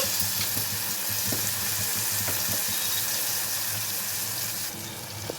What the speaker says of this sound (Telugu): ఆ గోంగూర ఇప్పుడు వేస్తున్నాను మీడియం ఫ్లేమ్లో పెట్టుకోండి